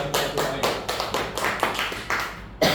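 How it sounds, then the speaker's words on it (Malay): A small group in a secondary school classroom claps in a brief burst of applause, the claps close and rhythmic, stopping for a moment and then starting again. "beri tepukan kepada kumpulan fardu ain."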